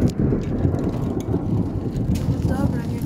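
A thunder clap in a heavy rainstorm gives a broad low rumble over constant pouring rain, with a voice briefly exclaiming near the end.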